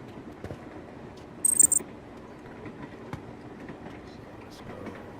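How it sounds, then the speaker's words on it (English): A moving train gives a steady low rumble inside the carriage, with scattered rail clicks and knocks, a brief high metallic squeal partway through, and muffled voices in the background. "It's because I'm constantly moving on the train."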